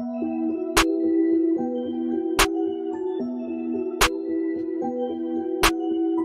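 Sharp, punchy layered clap and snare samples in FL Studio land four times at an even pace over a looping melodic beat, crisp and prominent.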